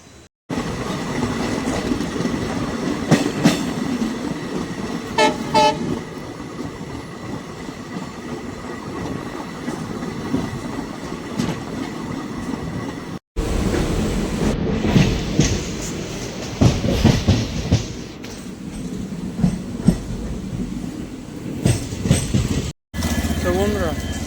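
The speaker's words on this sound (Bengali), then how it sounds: "আমাদের ট্রেনটি তার 182 কিলোমিটার পথ অতিক্রম করে তার শেষ গন্তব্যে পৌঁছে গেল" Passenger train rolling from Guwahati toward New Bongaigaon, a steady loud rumble with rhythmic wheel clatter, broken by two brief dropouts, while a person talks over it at times.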